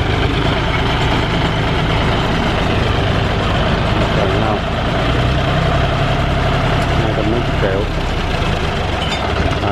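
A 2004 John Deere tractor engine idles loudly and close by with a constant heavy diesel rumble and rattle, holding steady throughout with no change in pace.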